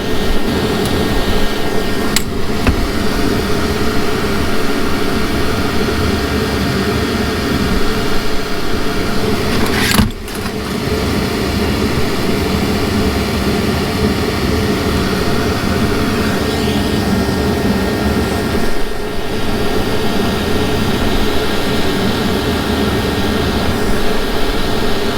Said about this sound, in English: We'll go wire wheel these real quick.